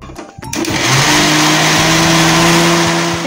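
An electric blender whirs loudly and steadily as it mixes mango pulp into an ice cream base, starting after a brief clatter and then holding a constant motor drone, close and with no voices.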